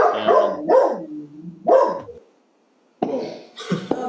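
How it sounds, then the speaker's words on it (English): A pet dog barks sharply several times close to the microphone, a quick cluster of loud barks followed by a pause and then two more yips. "No, it's my dog."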